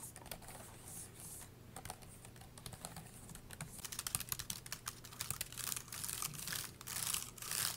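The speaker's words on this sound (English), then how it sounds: "I think the reason why the keyboard on the Mac sounds a little higher pitched is because the keys are pretty loose" Typing on two laptop keyboards, a budget ASUS and a Mac with loose keys, compared back to back: a steady run of quiet, close key clicks that grows a little louder and sharper toward the end.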